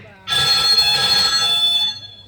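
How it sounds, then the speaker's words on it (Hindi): An indoor telephone rings in one continuous, loud, shrill electronic ring lasting about a second and a half, starting abruptly and fading out at the end. "सूरज बेटा देखना तो किसका फोन है।"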